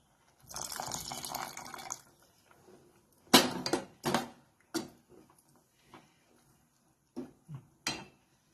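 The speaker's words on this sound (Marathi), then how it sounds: "मी आणखीन थोडं दूध घालते आता याच्यामध्ये" Milk pours into a pot of sweet potato kheer in one steady liquid stream lasting about a second and a half. A few louder clunks and short splashy knocks from the pot and utensils follow, with quiet gaps between them.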